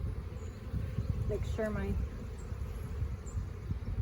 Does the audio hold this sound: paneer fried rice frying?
no